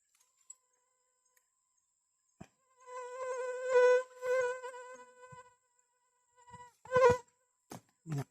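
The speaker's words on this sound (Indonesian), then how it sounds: "Banyak nyamuk." Mosquitoes buzz close by outdoors during a search for herbal plants, a thin whining drone lasting a few seconds amid near silence, followed by a few faint knocks and rustles.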